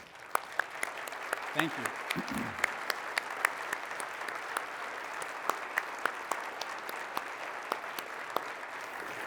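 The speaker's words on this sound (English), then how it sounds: "would you please stand and let's give you a round of applause as well." Audience applause honours council members at the Mesa State of the City 2022 event. Sparse, crisp individual claps ring out over a steady crowd hum throughout, and a voice speaks briefly early on.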